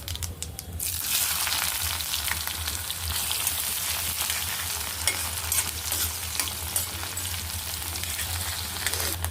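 Mustard seeds, cumin and onions sizzle and crackle in hot oil for a prawn and ridge gourd curry, a loud continuous frying hiss with popping spatters, stirring and a low steady hum beneath, no one speaking.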